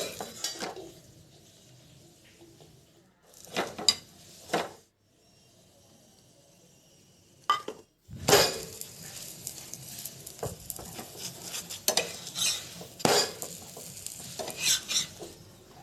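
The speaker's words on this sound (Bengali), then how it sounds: "উল্টে পাল্টে এগুলোকে আমি ভেজে নিচ্ছি" Egg paratha frying in a pan gives soft sizzling broken by loud scraping and clattering as it is turned and flipped, in short bursts with quiet pauses, and no talking.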